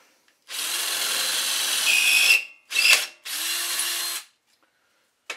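A power drill with a 5/16 bit bores into a metal engine block during a go-kart fuel pump install, running in three close, loud bursts, one long and two short, with brief pauses and no talk.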